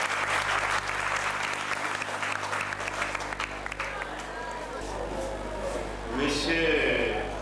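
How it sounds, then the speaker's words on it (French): Applause from an assembled audience at a school ceremony in Porto-Novo, a broad wash of clapping with a low hum and some murmuring underneath, continuing steadily throughout. "je vous demande une fois encore, chez l'apprenant, d'applaudir très fort"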